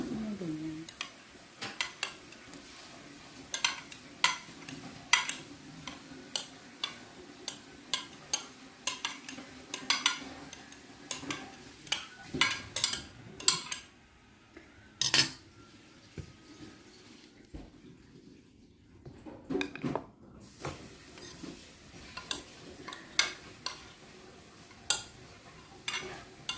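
Utensils scrape and clink against a bowl as red gelatin cubes are mixed into a buko salad of young coconut, giving irregular taps and clatters with a quiet pause midway.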